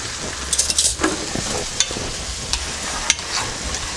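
Vegetables and pasta sizzle in a hot oiled pan on a home stove, a steady frying hiss broken by a few sharp pops and the scrape of stirring.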